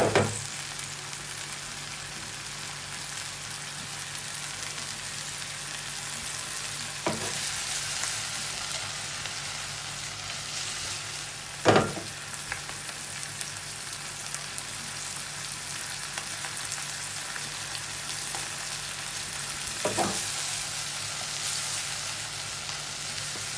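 Mushrooms sizzle in olive oil in a pan for a vegetable omelette, a close, steady frying hiss broken by a few sharp utensil clicks and stirs.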